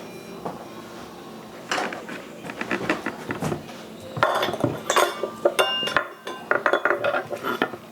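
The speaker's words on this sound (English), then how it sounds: "I'm going to mix the buttermilk with the cornstarch" A utensil clinks and scrapes in a pan while buttermilk is mixed with cornstarch, giving irregular close clatters and taps that grow busier and louder toward the end.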